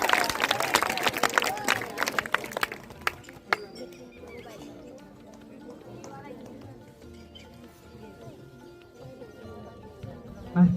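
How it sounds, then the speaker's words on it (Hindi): Loud applause for the principal at a school farewell ceremony, a dense burst of clapping that fades after a few seconds into quieter room noise, with speech over it. "जोरदार तालियां सर के लिए।"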